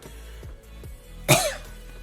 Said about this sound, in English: If you see me coughing, I don't have the coronavirus. I just have allergies.